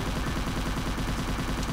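Rapid, steady automatic gunfire rattles in a video game, a dense, loud burst of evenly spaced shots that fills the whole moment with no pause.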